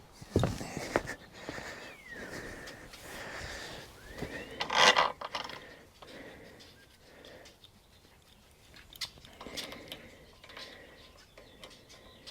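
Wrenches loosening a drill bit from equipment, heard as faint, close metallic clicks, ratcheting and tool clanks at irregular intervals, with a sharper clink near the start and a brief rattle midway.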